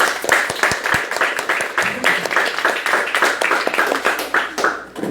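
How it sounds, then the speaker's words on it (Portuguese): A congregation claps during a Catholic church sermon, rhythmic hand claps in a steady beat, close and lively, with voices faintly mixed underneath. "Vamos aplaudir Nosso Senhor?"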